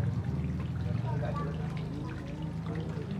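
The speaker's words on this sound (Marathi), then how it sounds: "सुंदर असा धबधबा तुम्ही बघू शकता. हा बघा धबधबा, हा तलाव आहे" Water from a small decorative waterfall pouring into a pond at a Ganesh Chaturthi celebration, a steady trickling flow under a continuous low hum and background chatter.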